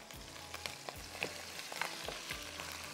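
Minced chicken frying in a pan with crushed red chillies, a soft continuous sizzle with light rhythmic stirring scrapes and small ticks.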